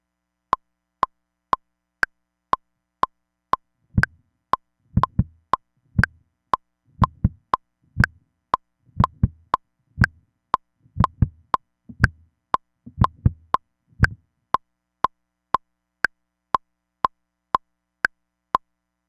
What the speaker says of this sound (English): play a beat on the kick trigger